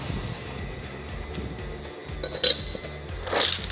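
Metal parts of a Kawasaki K5 hydraulic pump clink together during reassembly as the piston base is fitted, with a sharp clink partway through and a brighter burst of clatter near the end over low workshop hum.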